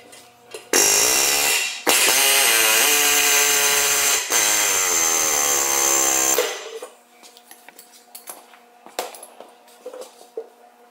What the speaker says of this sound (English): drive the pinion out of the housing either using a pointed chisel or an air hammer